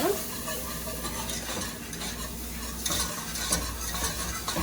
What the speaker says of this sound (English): now we're gonna gradually add our milk, and I'm gonna keep stirring